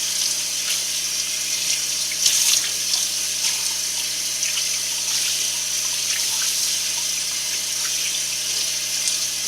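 Tap water runs steadily from a faucet while hands are rinsed beneath it, a continuous close splashing hiss with small irregular splatters, no talking.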